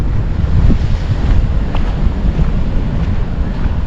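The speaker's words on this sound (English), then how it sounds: "looking down the coast, looking at the waves" Ocean waves wash against the coast at Quiberon in Brittany, France, a constant loud roar of surf mixed with heavy wind buffeting the microphone. No voices are heard.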